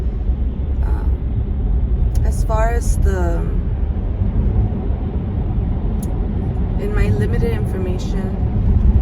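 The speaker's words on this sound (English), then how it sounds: "and I apologize for the noise I'm getting on the freeway." Steady broadband freeway traffic roar rumbles continuously beneath someone speaking close to the microphone, with no breaks in the wash of passing vehicles.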